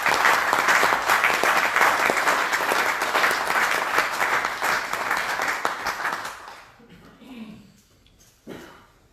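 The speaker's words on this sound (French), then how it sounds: "Donc je propose aussi qu'on puisse les applaudir." Audience applause at the closing of a general assembly, dense sustained clapping filling the room for several seconds before tapering off into a quiet hall with faint scattered sounds.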